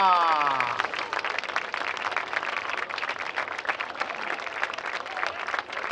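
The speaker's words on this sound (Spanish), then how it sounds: "vamos a dar un aplauso muy fuerte al tercer clasificado desde Japón, Keisuke Hara." A crowd applauds the third-place finisher at the Cantones de A Coruña international race walking Grand Prix, with steady, dense clapping throughout and an announcer's voice heard briefly at the start.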